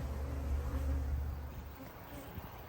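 Honey bees flying in and out at their hive, a dense low buzzing hum from many insects passing close by, steady and fairly faint, with a slight rise and fall.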